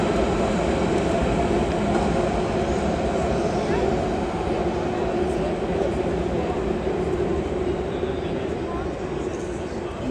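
Busy train station platform in Berlin before a sleeper train departs, a continuous low rumble of rail traffic and station hubbub with a faint murmur of people, steady and enveloping throughout.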